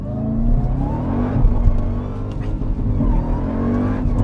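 A supercharged 707 bhp Jeep Trackhawk launches hard from a launch-control start, its engine roaring loud and close with a rising whine as it pulls away steadily.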